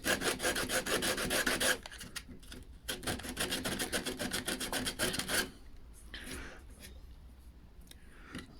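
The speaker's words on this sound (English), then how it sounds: "Then I'd sand that point and that point." Sandpaper rubs by hand against a chamfered wooden hospital bed part in steady, close rasping strokes, heavy at first and then lighter and more intermittent.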